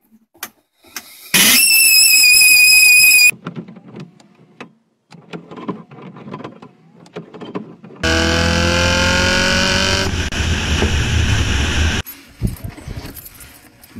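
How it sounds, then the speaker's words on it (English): The heater fan in a 240D car gives two loud bursts of shrill, whining squeal with shifting pitch, separated by softer clicks and rattles inside the cabin. "This is what the heater fan in my 240D sounds like."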